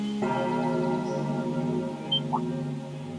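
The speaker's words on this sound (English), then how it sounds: "Is that the old schoolhouse's bell?" The old schoolhouse bell in the video game Trails of Cold Steel 2 rings with a single sustained, resonant toll that hums steadily and slowly fades, loud and alone.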